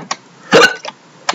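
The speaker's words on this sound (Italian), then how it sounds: "Singhiozzo del malaugurio." A person hiccups, one sharp loud hiccup in the middle with smaller catches of breath before and after, close and alone.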